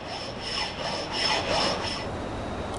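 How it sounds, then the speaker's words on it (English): A fine-toothed flat file draws across metal in smooth, continuous strokes, producing a soft, even rasping hiss at close range with no voices. "This is a flat file, but its shorter teeth remove much less material on each stroke,"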